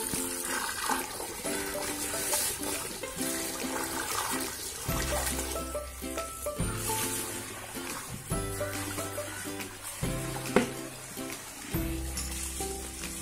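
Running water splashes and trickles over a flower pot as it is washed clean, a continuous rushing, gurgling flow with uneven surges, moderately close and heard without speech.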